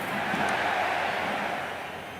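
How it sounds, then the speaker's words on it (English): Stadium crowd noise in the cricket video game Cricket 26 during a T20 World Cup match, a dense, steady roar of many voices that swells slightly and then eases off. "The crowd are making a heck of a lot of noise even before the first ball's been bowled."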